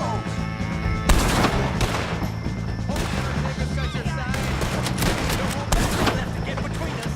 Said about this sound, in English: Y ya empezó el tiroteo más.